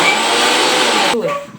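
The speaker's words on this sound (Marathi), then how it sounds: "आता हे सगळं आपल्याला बारीक करून घ्यायचं आहे मिक्सरवरती." Mixer grinder whirring loudly as it grinds roasted coconut with spices, a steady high-pitched buzz that cuts off abruptly near the end and then winds down.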